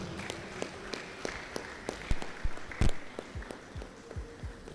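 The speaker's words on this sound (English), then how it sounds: "please a round of applause for Mr. Oluwatobi Bayo David" Scattered claps from an event audience greeting a speaker, sparse and uneven hand claps with a few louder strikes, moderately near, no voices over them.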